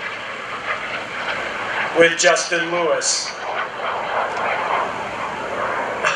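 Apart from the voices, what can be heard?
FLS Microjet small jet aircraft engine at an airshow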